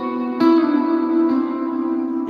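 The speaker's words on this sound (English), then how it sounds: "using this sort of enhanced it's enhanced reverb on this amp setting" Electric guitar played through an amp setting with enhanced reverb, giving sustained, harmonically rich notes with a long washy tail and a few fresh attacks layered over the ringing decay.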